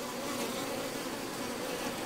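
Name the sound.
honey bees buzzing at an open hive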